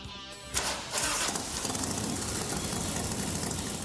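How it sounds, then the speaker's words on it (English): A motorcycle engine fitted with a Mikuni HSR 42 carburetor runs steadily at a low, rumbling warm idle after a brief startup burst, continuous and close throughout. "With the engine running and warm"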